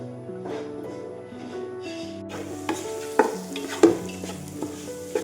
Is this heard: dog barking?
no